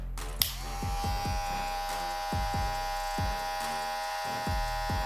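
A Kemei KM 1895 electric hair clipper runs steadily with a close, constant buzzing hum, switched on at the start and kept going alone at an even level for several seconds.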